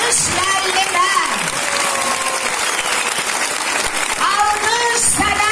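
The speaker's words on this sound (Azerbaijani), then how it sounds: "Alqış müəllimlər!" Applause for the teachers at a school's last-bell ceremony, a steady broadband clapping from a large crowd that fills the whole clip, with shouted voices and cheers rising over it at the start and near the end.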